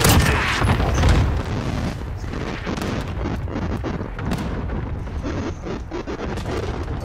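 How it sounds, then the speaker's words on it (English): Cluster strike explosions in Call of Duty: Modern Warfare, a dense, loud barrage of booming blasts and rumbling impacts rolling continuously with bursts of crackling fire throughout. "Enemy cluster strike. Take cover."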